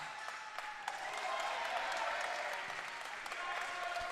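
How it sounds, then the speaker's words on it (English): A South Australian crowd at a men's open cricket match between SA and WA claps and cheers off camera, a modest, distant swell of applause with a commentator talking over it. "Sparks some cheers from the South Australian crowd, who you can't see on camera."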